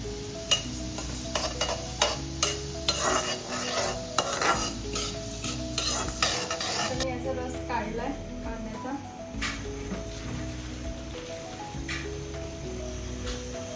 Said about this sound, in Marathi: आता मी याला भाजलंय थोडंसं हलकं तळते